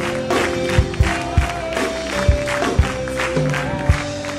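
A church congregation cheers and acclaims loudly together as one crowd, with a rhythmic beat of thumps or claps and sustained musical tones underneath.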